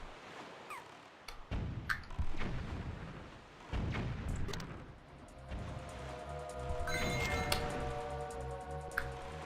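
An enemy blowing himself up in The Legend of Zelda: Wind Waker: sharp explosive bangs and crackling blasts, then ringing pings and a droning tone under game music.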